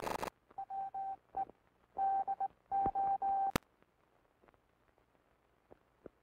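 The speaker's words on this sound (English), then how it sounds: "Listen to the sounds of the key. These sounds are transmitted in International Morse code." A telegraph key sends International Morse code as clean steady beeps in short and long bursts, a rhythmic run of dots and dashes, then a sharp click and near silence, from a 1944 US Navy radio operator training session.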